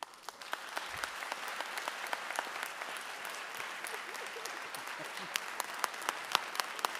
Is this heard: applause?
yes